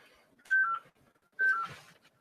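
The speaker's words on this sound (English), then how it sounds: "We've actually got a phone call coming in." An incoming phone call rings in two short electronic tone bursts about a second apart, clear against a quiet background.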